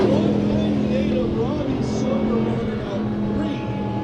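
Dirt track race cars at KCRP roar steadily toward the finish of a heat race, a continuous engine drone heard under a voice talking over a public address system.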